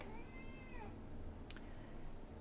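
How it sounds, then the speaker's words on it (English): A domestic cat meows faintly in a quiet indoor room, giving a couple of soft, drawn-out calls over low background hiss. "I had to chat with Clementine the cat because she wants to be part of this"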